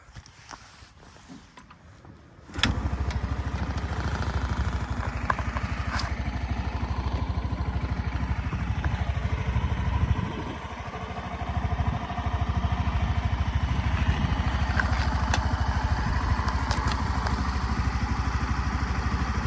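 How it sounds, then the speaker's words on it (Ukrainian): A 2019 Suzuki Address 125 scooter engine idles steadily and close by, a low continuous rumble that starts abruptly after a short quiet stretch and dips briefly midway. "Як на мене ідеально працює двигун."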